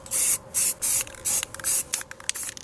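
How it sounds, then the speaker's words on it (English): Aerosol spray paint applied in bronze to engine parts, heard as a run of loud close hissing bursts, about seven short sprays with brief pauses between them. "So now I'm going to spray everything here bronze."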